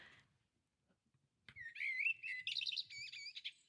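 A blackbird sings alone after a short pause, a clear, fluting run of warbled whistled phrases with a slightly rough edge, close and fairly loud against a quiet background.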